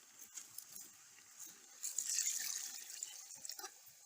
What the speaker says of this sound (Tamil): இப்போ கொஞ்சம் தண்ணி ஊற்றிக்கிறோம் வேகிறதுக்கு.